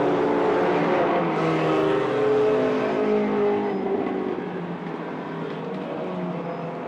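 Race cars lap a circuit during a race, their engines a loud continuous roar that swells and fades as the cars pass, with no talk over it.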